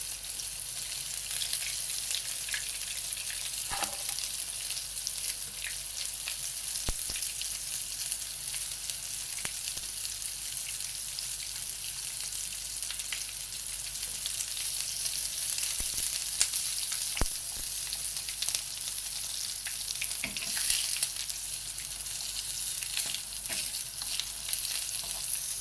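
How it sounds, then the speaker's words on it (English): Mozzarella in carrozza sandwiches frying in a pan, a continuous even sizzle and crackle that holds steady throughout, with occasional sharper pops and faint clinks, no talking. "And just start frying those."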